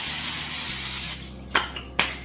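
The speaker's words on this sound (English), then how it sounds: "I'm going to take my cooking spray and I'm going to just lightly spray the tops of" A burst of cooking spray hisses onto eggplant slices, then a few short, sharp spritzes follow in quick succession, close by.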